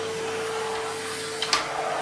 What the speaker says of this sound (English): This is just a speedy vacuum.